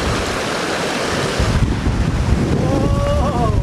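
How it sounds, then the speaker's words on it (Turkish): Strong wind gusts through a canyon in rough, continuous bursts and buffets the microphone loudly. Faint voices come through underneath near the end. "Rüzgar bizi atacak."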